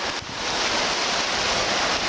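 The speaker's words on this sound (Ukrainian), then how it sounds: "І кристалево чиста річка Карпатська." A clear mountain river in the Carpathians rushes steadily nearby, a dense, continuous wash of flowing water with a faint wind rumble and no voices.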